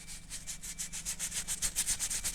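Coarse Armor All wipes scrubbed back and forth over truck cab surfaces, a close, steady rhythmic rasp of quick repeated strokes that grows slightly stronger, with no talking.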